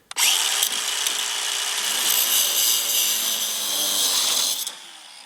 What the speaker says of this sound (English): So I'm going to cut me off about an 8-inch piece right here.